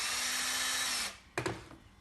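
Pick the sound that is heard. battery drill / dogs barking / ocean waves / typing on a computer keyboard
battery drill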